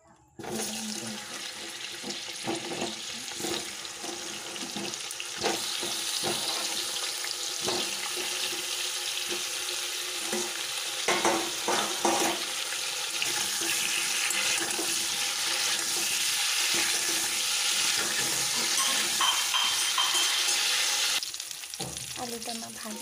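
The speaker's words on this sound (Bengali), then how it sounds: "এই আলুগুলো ভেজে নেব।" Potatoes fry in oil left over from frying onions, giving a steady, dense sizzle that runs for over twenty seconds with occasional stirring clicks, close and without speech.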